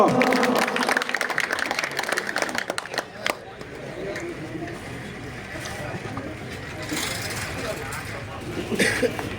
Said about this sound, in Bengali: করতালি হবে স্মৃতিকণাদির জন্য